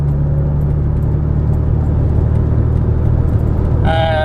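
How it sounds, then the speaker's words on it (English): A Porsche Boxster on the road coasts with its engine on overrun, a steady low drone and road rumble inside the cabin, before power comes back on and a rising harmonic engine note appears near the end. "The car's pushing the engine, and then back onto the power."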